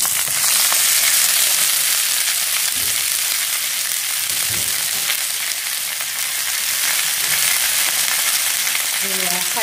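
Potatoes stir-fried with garlic in a pan sizzle and crackle steadily and loudly throughout, with no voices.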